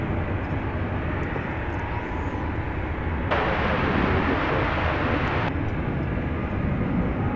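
An airliner takes off at DFW Airport, its jet roar a broad, steady wash heard from a distance, swelling louder for a couple of seconds midway before settling back.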